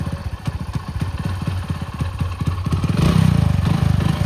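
A motorcycle engine idles nearby while warming up, a steady loud putter of rapid even pulses that thickens into a slightly higher, fuller throb toward the end, with no talking.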